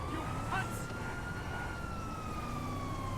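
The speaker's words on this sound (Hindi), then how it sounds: "सायरन ही बंद कर देता हूँ" A police siren in the GTA 5 video game wails steadily throughout, loud and continuous with a slowly shifting pitch over a rumbling engine and road noise.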